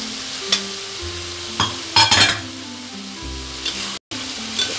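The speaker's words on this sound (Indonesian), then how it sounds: "Kita aduk-aduk lagi." Stirring a pan of yellow pickled cucumber and carrot with chili and shallot as it sizzles and fries, with steady frying hiss broken by several sharp scraping stirs, close up and with no talk.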